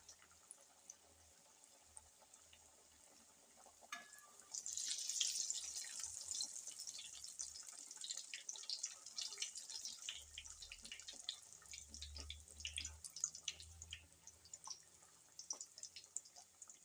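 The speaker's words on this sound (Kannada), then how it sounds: "ನೋಡಿರಿ ಈಗ ಎಣ್ಣೆ ಕದತಿ ಒಂದೊಂದು ಹಾಕ್ಯಂತೀನಿ ನೋಡಿರಿ." Changi dough pieces dropped one by one into hot oil for a North Karnataka sweet, giving a steady sizzling hiss that swells after a few seconds and carries on with small crackles, no talking.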